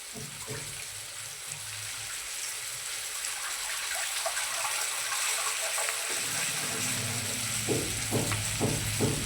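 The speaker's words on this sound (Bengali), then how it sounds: "আলুটা সেদ্ধ হওয়ার জন্য জল দিয়ে দিলাম প্রথমে।" Water gushes steadily into a cooking pan of potatoes, with tomato already added, to boil them for a Bengali fish curry. Several sharp clacks of a utensil against the pan follow near the end, close and fairly loud.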